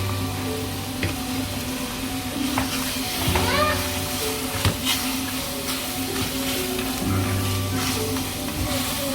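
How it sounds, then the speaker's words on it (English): Condensed milk mixture for gulab jamun sautéing in a pan, giving a steady low sizzle with occasional stirring scrapes and faint background voice. "And we'll just saute it for a minute."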